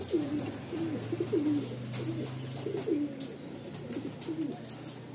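Madrasi pigeons in a Kolkata loft coo repeatedly, soft throaty calls recurring every second or so, fairly close and quiet against low background hum.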